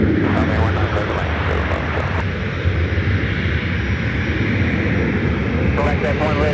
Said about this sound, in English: This takeoff is American Eagle 4602 taking off to Oklahoma City on the E175.